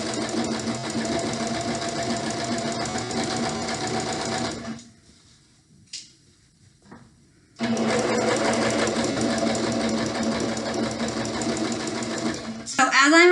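Sewing machine stitching along the pinned edges of a pillowcase, running in two steady bursts separated by a few seconds of near silence, close and even.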